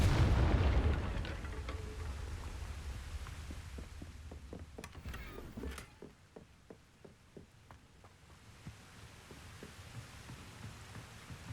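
A Confringo spell explosion in the video game Hogwarts Legacy opens with a loud, deep blast, then rumbles and crackles away into faint scattered pops and a low hum.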